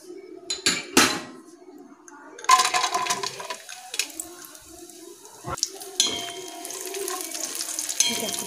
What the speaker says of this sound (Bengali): তেলে নাড়াচাড়া করে নেবো। যেই কিশমিশটা ফুলে উঠবে আমরা এখানে চালটা দিয়ে দেবো।